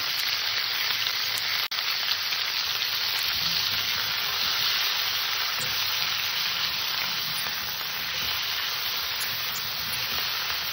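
Fish curry with ginger-cumin paste, turmeric and salt fries hard in a pan, giving a loud, continuous hiss and sizzle with one sharp clack from a utensil early on.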